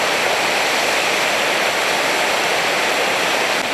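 The flooded Aghstev River rushes past at Haghartsin village, a loud, dense and unbroken roar of churning floodwater close by.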